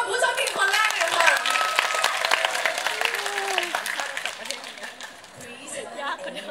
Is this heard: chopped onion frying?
no